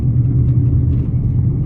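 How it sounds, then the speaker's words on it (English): A car drives along in second gear, its steady low engine rumble and road noise close and continuous throughout with no talk. "Second gear is actually functional in my car now."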